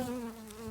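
Steady, close buzzing of honey bees at an opened hive during an October colony inspection, a sustained droning hum with a few wing-beat flutters, fairly quiet.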